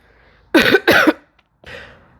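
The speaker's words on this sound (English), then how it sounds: "I had to cough again" Two sharp, loud coughs in quick succession from a nearby person, followed after a brief pause by a softer breathy exhale or throat sound.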